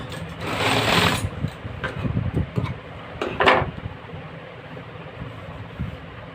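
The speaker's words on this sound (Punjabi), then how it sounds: "ਹੁਣ ਆਪਾਂ ਲਾਵਾਂਗੇ ਪੈਰ ਪੈਰ ਦੀ ਸਲਾਈ" Sewing machine stitching a shirt collar, a fast whirring run for about a second, then shorter bursts and stops with clicks of handling the fabric, close and fairly loud.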